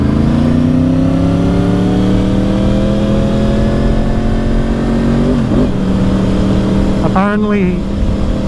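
A 2010 Yamaha R1 motorcycle engine runs at a steady idle, loud and close, with a noisy cam chain tensioner, then blips in a short rev near the end.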